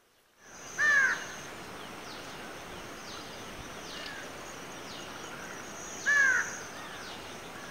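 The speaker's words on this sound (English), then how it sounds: "Lots of crows." Two loud crow caws ring out several seconds apart over a steady outdoor hiss of insects and rustling near a hillside temple in Dharamsala, India.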